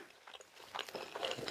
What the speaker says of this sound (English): sorry for all the chewing noises